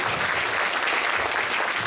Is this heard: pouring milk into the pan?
no